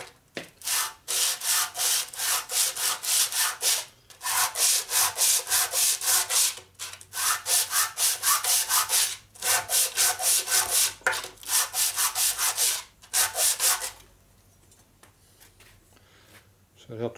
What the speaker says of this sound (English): it's still mainly just sanding it off.